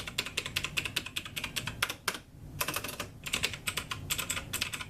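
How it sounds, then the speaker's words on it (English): Fast typing on a VAVA mechanical gaming keyboard with clicky blue switches, a dense run of crisp, loud keystroke clicks up close, pausing briefly midway before resuming at the same brisk pace. "being blue switches on this device, the clicky on this is probably one of my favorite clicky keyboards"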